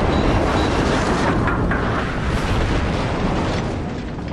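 Warship guns firing armor-piercing rounds in the World of Warships video game make a dense, roaring broadband boom that holds loud and then slowly fades over a few seconds, with no speech.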